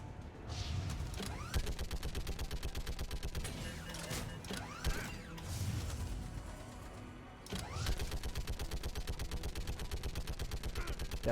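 Mounted turret gunfire in Mass Effect 3, loud rapid automatic bursts with a short pause partway, close and dominant under game sounds.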